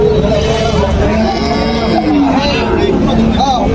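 Cattle low loudly and steadily at a busy cow market, several drawn-out moos overlapping one another above a dense babble of people talking nearby.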